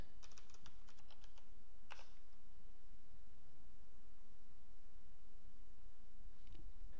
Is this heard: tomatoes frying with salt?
no